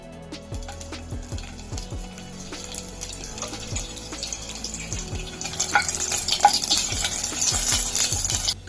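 Garlic frying in oil in a heated pan while a Malvani dry fish curry tempering is made, with low sizzling, scraping stirs and clinks that grow busier toward the end, close and unvoiced.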